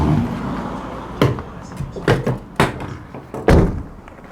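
Rear doors of a 2021 Ford Transit Trail van swing shut in a handful of solid thuds and latch clunks spaced over a few seconds, close and loud against a quiet outdoor background.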